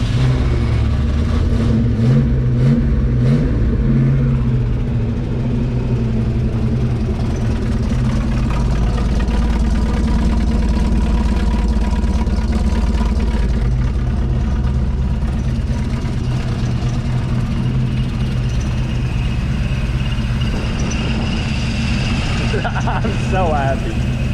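A 1970 Mustang Mach 1 V8 fires up after forty years sitting and settles into a loud, rough, rumbling idle with occasional revs, close by, with people's voices mixed in over the engine.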